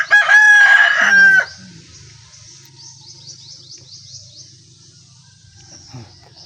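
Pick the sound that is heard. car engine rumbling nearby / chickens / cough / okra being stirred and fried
chickens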